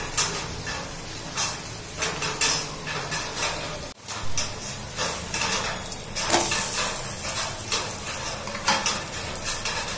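A paneer paratha roasts in butter on a hot pan over a high flame, giving a steady, close sizzle with scattered scraping and stirring clatter and a brief pause partway through; no one speaks.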